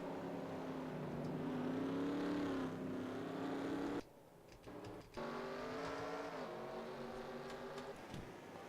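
Race cars in the NASCAR Racing 2003 sim, running a championship car race at Montreal, give off a continuous high engine whine that rises and falls, dropping out briefly midway before the engine note returns.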